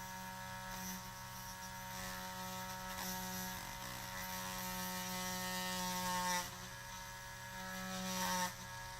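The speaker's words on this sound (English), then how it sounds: "We just want to grind down this tip that's in here." A cone-shaped sanding bit on a rotary drill grinds down a plastic tip with a steady mechanical whir and a constant motor hum, sharper scraping surges rising briefly near the end, close and moderately quiet, with no voices.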